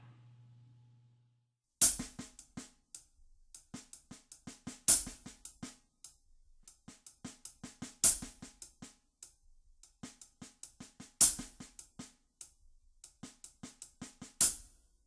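A drum groove plays after a short low tone: crisp hi-hat strokes with one loud accent at the start of each bar, the rest kept soft.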